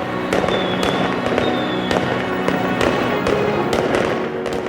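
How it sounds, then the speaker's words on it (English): Firecrackers go off in rapid, irregular bursts during a rural village lantern festival procession in China, sharp cracks and pops following one another over a loud, continuous crackling wash. "people lit firecrackers and made offerings along the way"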